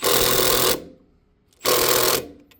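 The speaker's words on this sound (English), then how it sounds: "so right now we just tighten the nut just like so" Passenger-side engine mount on a 2012 Kia Soul 2.0L being tightened with a power tool on a 14 mm bolt: two loud buzzing bursts, each under a second, split by a short pause, close and with no talk.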